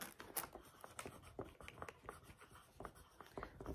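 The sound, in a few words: writing the word on a board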